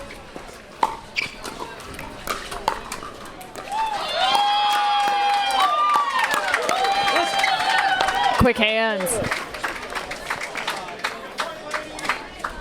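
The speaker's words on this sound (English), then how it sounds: "A lot of cheering on the court next door" Crowd cheering and whooping from a neighbouring pickleball court at an outdoor pro doubles tournament, a loud burst of shouts and whistles over paddle pops, with a brief spoken remark.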